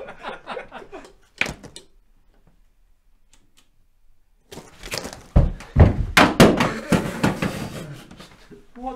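A gun is dropped and lands with one sharp, close knock, followed by a stretch of near silence and then loud commotion and laughter.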